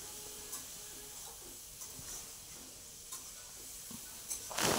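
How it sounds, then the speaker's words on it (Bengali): Mutton pieces fry with a little turmeric in a pan, producing a faint, steady sizzling hiss with a few soft stirring knocks and a louder burst at the end. "এই যে মাটনটা দিয়ে অল্প হলুদ দিয়ে এটাকে অল্প ভেজে নেব"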